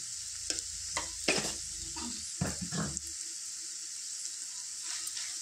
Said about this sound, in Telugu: ఒకసారి కలుపుకొని